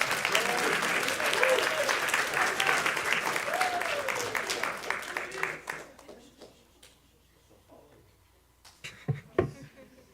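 Applause at a Ja'faria School of Central Jersey graduation ceremony for a student speaker fills a hall with dense crowd clapping for about six seconds, then fades into scattered claps and quiet shuffling.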